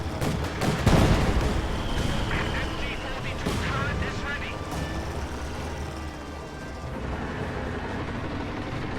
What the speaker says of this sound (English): High explosive barrage is probably going to destroy it entirely.